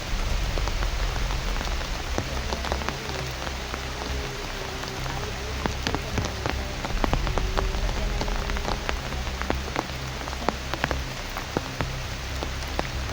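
Heavy rain drums on an umbrella during a strong storm, a dense close patter of countless drops with sharper individual taps, steady and loud throughout.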